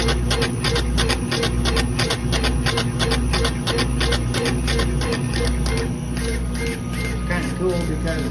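Woodworking laser engraver at work in a shop, with its exhaust blower switched on: a dense, rapid, mechanical ticking and chattering like a printer head, over a steady low blower hum, close and continuous throughout.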